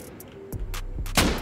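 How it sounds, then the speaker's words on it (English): Auto-turret in a raiding video game firing in short bursts, several sharp cracks spaced across a second and a half with a louder final burst, fairly close and with no talking. "apparently these turrets can take you down straight through a freaking roof"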